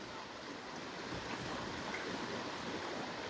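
Continuous broadband rush of flowing creek water, steady and fairly close, with no voices over it.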